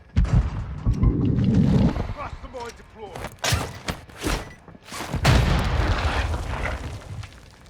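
Bomb blasts and gunfire in a Call of Duty DMZ match on Ashika Island, several sharp booming hits and cracks, loud and close, with players talking between the impacts.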